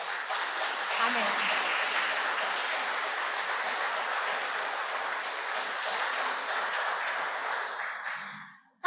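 A church congregation applauds steadily for several seconds, a dense, even wash of clapping that stays loud throughout and then cuts off abruptly at the end.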